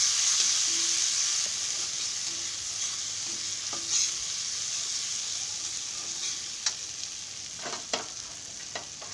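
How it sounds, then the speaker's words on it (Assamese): A steady, close sizzle of masoor lentils frying in a pan, with occasional scrapes and clicks as they are stirred. "এতিয়া মই দালিখিনি ভালদৰে ভাজি ল'ম"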